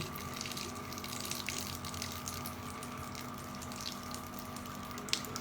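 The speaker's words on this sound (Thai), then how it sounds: "นำเลนแว่นนะคะ ไหลผ่านน้ำค่ะ ช้าๆแบบนี้" Gently running tap water pours over a glasses lens being rinsed, a soft steady hiss and trickle, quiet and continuous with no talk.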